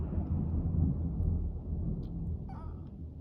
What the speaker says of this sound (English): It's the loud noises in the thunder that gets me.